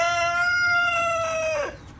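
A chicken on a backyard flock gives a sustained, tonal call close by, holding steady before breaking off and dropping away near the end, with no talking.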